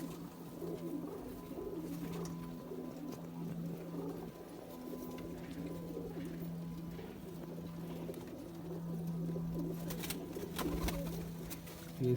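Low, continuous cooing from male black Zeera pigeons fills the space, a soft rolling murmur from several birds close by with no break, rising a little toward the end.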